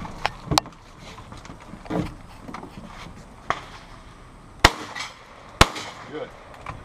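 Shotgun blasts at a shooting-competition stage, a few sharp, loud, separate reports spaced about a second apart, with smaller pops and outdoor background noise between them.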